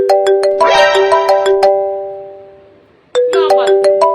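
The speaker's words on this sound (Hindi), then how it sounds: "अरे लो दीदी का फोन आ गया" A phone rings with a loud, bright melodic ringtone: a quick run of chiming notes that fades out, a pause of about a second and a half, then the tune starts again, with no talking over it.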